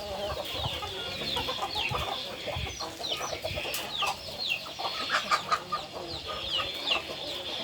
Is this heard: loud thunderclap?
no